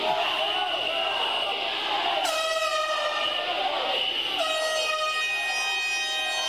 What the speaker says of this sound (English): Justin Jones set off air horns